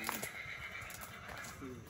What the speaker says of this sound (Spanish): Ahí ya rebuzna un caballo.